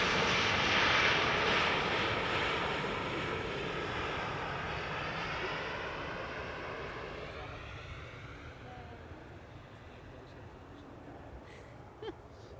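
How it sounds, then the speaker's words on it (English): A KLM Embraer 190, a brand-new airliner, roars in on arrival at Amsterdam Schiphol, its jet engine noise loud at first and then slowly fading over about twelve seconds, with faint voices in the background. "And parallel arrivals, KLM Embraer 190."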